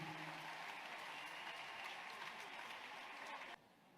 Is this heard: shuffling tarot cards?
no